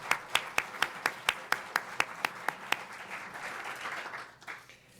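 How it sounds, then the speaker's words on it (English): A crowd applauding, with sharp regular claps standing out at first, then blending into a steady wash of clapping that fades toward the end. "let's just give a round of applause for the class of 1950"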